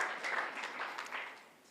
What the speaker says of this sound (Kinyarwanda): Oh, amashyi menshi ku mwami Yesu.